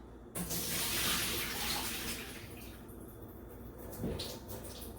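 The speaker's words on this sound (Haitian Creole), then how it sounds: "vous jetez première de l'eau" Water splashes and pours out steadily from a basin during hair washing, a continuous close rushing and splashing with a brief surge near the end.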